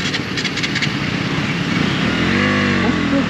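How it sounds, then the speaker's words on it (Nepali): A KTM Duke 200 motorcycle cranks and its engine catches during a starting attempt, a loud close mechanical churn that rises into a rough running note near the end. "कति स्टार्ट भएको यो बाइक यार"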